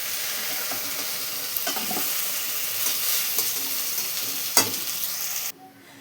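Eggplant fries lightly in mustard oil in a pan, giving a close, steady sizzle broken by a few scraping stirs. The sizzle cuts off abruptly near the end.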